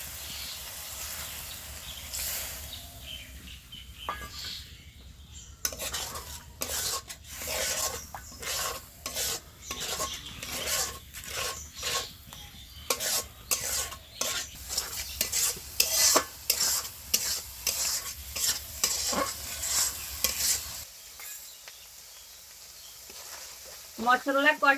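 Spice masala with cauliflower and potato is stirred and scraped in a hot pan, rhythmic rasping strokes over a low sizzle, close and steady, growing busier midway before a brief quiet stretch near the end.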